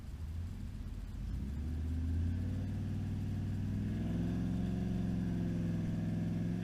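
A vehicle fitted with a swapped 4L80E automatic transmission pulls away from a stop, the engine rising from a low idle rumble into a steady, climbing drone under acceleration, close and continuous.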